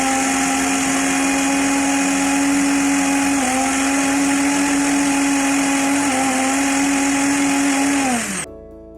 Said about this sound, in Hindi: इसको ग्राइंडर में ऐड कर देना है और इसको अच्छे से हम ग्राइंड कर लेंगे